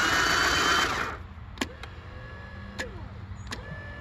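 Remote-controlled servo mount rotating an M134 minigun: a loud, rushing motor burst for about a second, then a quieter electric whine broken by a few sharp clicks as the mount turns.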